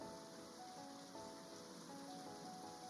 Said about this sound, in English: So we got our game going again. We got the rain going.